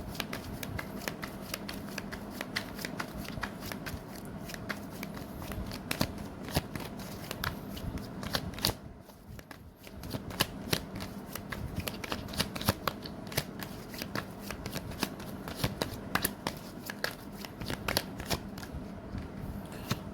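Tarot cards are shuffled steadily and close up, a dense run of crisp riffling and flicking slaps that carries on for the whole stretch with only a short pause near the middle.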